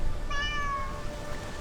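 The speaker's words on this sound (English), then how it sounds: "followed over the crashing of the waves by a tiny meow." A small black and white cat gives one thin, rising-and-falling meow, clear and close, over a low rushing roar of crashing sea waves.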